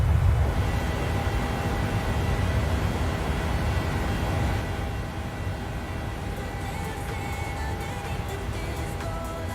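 Airliner climbing out at night from San Antonio in Microsoft Flight Simulator, a broad roaring engine rumble that drops somewhat in loudness midway and settles into a steadier whine, no talking.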